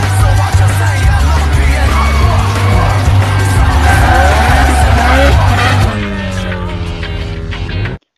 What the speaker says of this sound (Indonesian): Kemudian Han memperlihatkan skill ngedriftnya pada Sean.